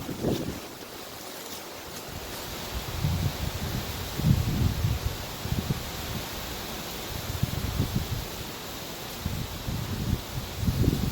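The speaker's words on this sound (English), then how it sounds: "It's a little windy." Steady outdoor wind at beehives roars across the microphone, buffeting in gusty low rumbles with no talking.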